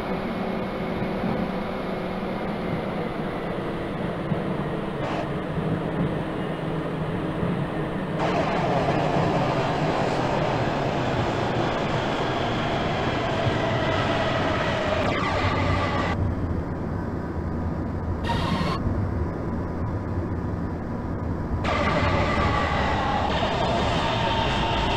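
A simulated Guangzhou Metro Line 2 train in the OpenBVE video game runs toward Jiangnanxi station, giving a steady, continuous rumble of wheels and motors with shifting hiss throughout and no talk.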